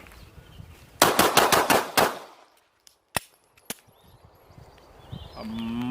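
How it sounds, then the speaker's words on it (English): Six rapid shots from a Glock 43X pistol fired at 5 meters in a speed drill, loud sharp cracks in a tight burst, followed by a couple of isolated metallic clinks and quiet outdoor background. "Speed test, Glock 43X. 5 meters, 6 rounds."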